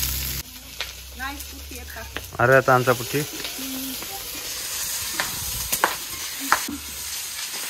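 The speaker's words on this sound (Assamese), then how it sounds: "আৰু এইফালে বিন ভাজি আলু ভাজি একেলগে মিক্স" Bean fry and potato fry being stirred together in a pan, with scraping and light sizzling under intermittent talk from a nearby woman, including a brief bursts of speech.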